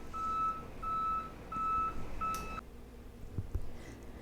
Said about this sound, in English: There's a truck outside, please pardon the beeping noise.